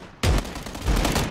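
Gunfire in a battle royale video game: two or three close, loud shots ring out in quick succession after a brief quiet moment, with no talking.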